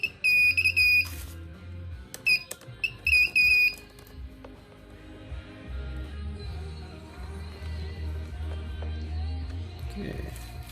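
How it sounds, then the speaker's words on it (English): An alarm on a 48V Nissan Leaf lithium-ion battery pack goes off as the battery is connected during a Catalina 27 sailboat electric motor conversion. It gives two bursts of shrill, repeated beeping in the first few seconds, followed by a low steady hum. "it makes an alarm which goes off once it's connected"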